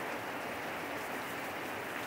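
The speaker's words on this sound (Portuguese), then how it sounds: "Tá bem forte mesmo a chuva" Heavy rain pours down steadily on a rural property with plants, a dense, even hiss of falling water at constant loudness with no pauses.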